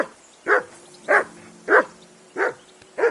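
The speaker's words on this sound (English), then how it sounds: "That barking was a pain in the ass." A dog in the video game Kingdom Come: Deliverance II barks five times at an even pace against a quiet background.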